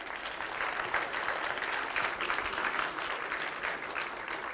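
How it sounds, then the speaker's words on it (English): Audience applause at a C and C++ programming conference talk, a steady dense wash of many hands clapping, even in level throughout and fairly distant, with no voices over it. "give a warm applause, please"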